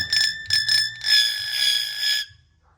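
A hill myna imitates a ringing bell: a few quick metallic dings followed by a longer sustained ring, close and clear with no talking.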